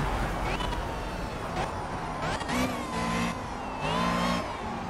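Ariel Atom 300 engine in the racing game Project CARS, revving hard and climbing through gears with rising and falling pitch sweeps, continuous and close.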